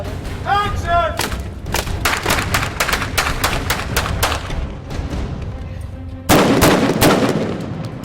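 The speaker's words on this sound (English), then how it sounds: "as you shoot, and it makes this bang, this loud noise" A prop gun fired on the Terminator Genisys film set lets off a rapid string of loud, sharp, close bangs at a steady rhythm, with a heavier burst near the end; a voice speaks briefly at the start.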